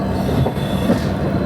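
Garib Rath Express passenger train running on the tracks, a steady close rumble of wheels and carriages with faint rhythmic clatter throughout.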